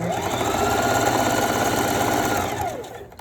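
A sewing machine runs steadily while stitching a stretchy one-piece stripper garment, a continuous close mechanical whirr with fast needle chatter, holding even for about two and a half seconds before slowing and fading out.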